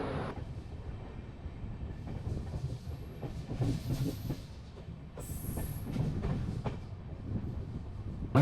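A passenger train climbs a Western Ghats mountain pass near Sengottai, its wheels giving a soft, low rumble with faint rhythmic clatter and occasional thin squeals, fairly quiet and without talk.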